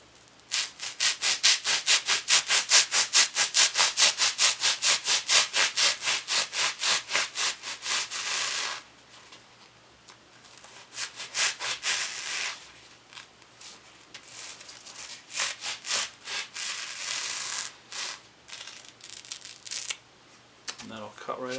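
A handsaw cuts through wood for a painted chair build in a brisk, even series of back-and-forth strokes. After a pause, a slower second cut follows in irregular bursts, close and loud.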